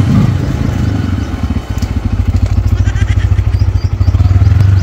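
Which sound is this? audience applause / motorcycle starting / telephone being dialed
motorcycle starting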